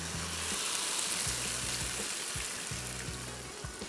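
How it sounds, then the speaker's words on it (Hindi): About two cups of water poured into qeema frying in a pot, a strong broad hiss and sizzle that stays dense and steady throughout, close up, with no voices. "इसमें शामिल करेंगे पानी तकरीबन 2 कप"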